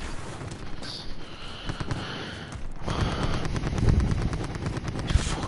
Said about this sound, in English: Fucking like gunshots going off absolutely everywhere,